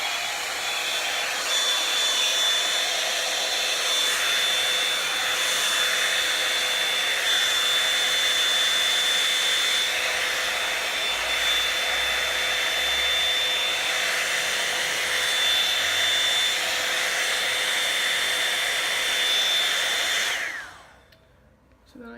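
A Revlon Salon One-Step hot air brush runs on a heat setting, a loud steady dryer-like whir with a high motor whine lasting about twenty seconds before it switches off.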